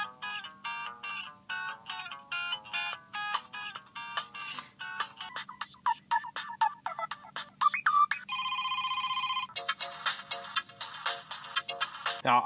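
An HTC Dream (T-Mobile G1) Android ringtone plays loud and alone, a plucky electronic tune of quick repeating notes that shifts into a brief sustained buzzy chord before the melody resumes.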